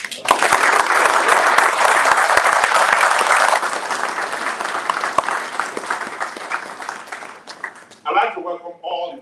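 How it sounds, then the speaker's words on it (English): Audience applause for a state governor and his wife at a public event, a loud, dense burst of clapping that slowly thins out, followed by a speaker talking at the end. "So if we gave him one round of applause,"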